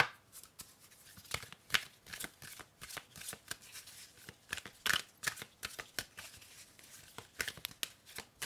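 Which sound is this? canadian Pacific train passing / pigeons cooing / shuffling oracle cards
shuffling oracle cards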